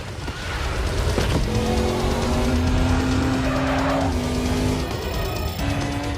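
Race cars roar and climb in pitch as nitrous boost kicks in, loud and continuous, with rising engine whines layered over squealing tires.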